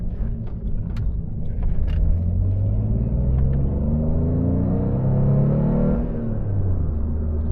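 Alfa Romeo GTV V6 Cloverleaf (Type 916) engine on a road drive, a loud, steady deep rumble that swells as revs climb and then eases off, with no talking over it.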